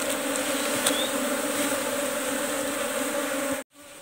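Wild dwarf bees buzz during a honey harvest in a dense, continuous close-up drone that stays loud and level, then cuts off abruptly near the end.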